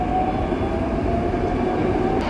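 A Moscow metro train runs with a continuous low rumble and rattle close by. There is a faint steady tonal whine, and a brief sharp click comes near the end. No one speaks over it.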